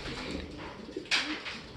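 Racing pigeons in a long-distance derby arrive at the loft with a few soft coos and wing flutters, and one louder burst of flapping partway through, close by amid steady background noise.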